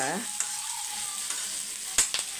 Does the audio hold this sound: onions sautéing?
yes